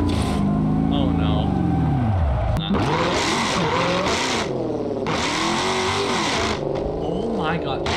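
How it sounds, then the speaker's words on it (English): A car engine in the BeamNG.Drive driving game revs up and down repeatedly in loud rising and falling sweeps, dipping toward idle between bursts, with tyre squeal mixed in. "Come on, just listen to the revs. Dude, listen to that idle!"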